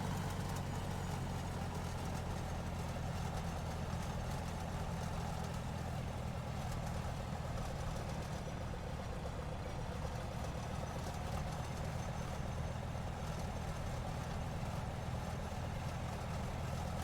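An aircraft taxiing in a flight simulator game, a steady low engine drone with a constant hum and no pauses, heard alone at moderate level.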